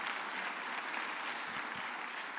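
A church congregation breaks into applause for Jesus at a preacher's request, a dense, steady wash of many hands clapping together throughout, with no speech over it.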